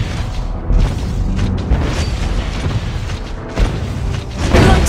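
A turret is destroyed in the game Mobile Legends: a deep booming blast with thuds and mechanical debris. Loud, dense battle noise runs under it and rises again near the end.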